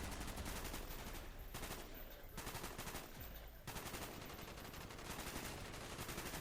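Continuous rapid bursts of gunfire in Call of Duty: Black Ops, with dense, heavy, rattling shots, loud and close, pausing only briefly between volleys.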